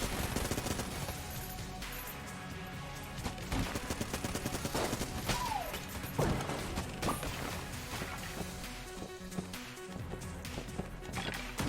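Rapid, sustained gunfire from a Vulcan cannon with triple shot in the video game Enter the Gungeon, loud and dense throughout amid game effects and background music.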